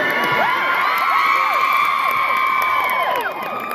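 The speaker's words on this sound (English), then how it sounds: "He always gets the most applause." Crowd in the Greyhills Auditorium in Tuba City, Arizona cheering and whooping for young drummer Riley Flanagan, loud and continuous with high shouts layered throughout, easing slightly near the end.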